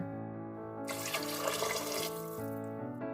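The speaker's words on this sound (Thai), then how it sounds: "ใส่น้ำนะคะ พอดีน้ำนะคะจะมีผสมมะเขือเทศนะคะ" Tomato-tinged water poured into a pot of lentils for soup, a close, gushing splash lasting about a second and a half over a steady background hum, with no talk.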